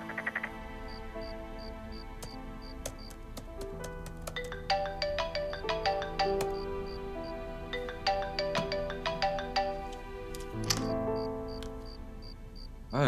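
A melodic telephone ringtone plays late at night, looping a bright tinkling chime pattern with steady pulsing beeps, clear and fairly close with no talking over it.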